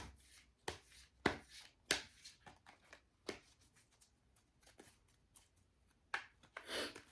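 Tarot cards are shuffled and drawn during a reading, a series of soft, close riffling snaps and flicks at an irregular rhythm, quiet and without talking.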